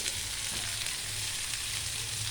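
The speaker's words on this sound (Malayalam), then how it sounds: "അത് നല്ലോണം ഇളക്കി കൊടുത്ത് വേവിച്ചെടുക്കുക" Shallots and ginger-garlic paste fry in a pan for a chicken dish, a steady close hiss and sizzle running unbroken and alone, with faint stirring scrapes.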